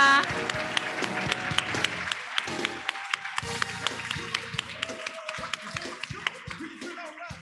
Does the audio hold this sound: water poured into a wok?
no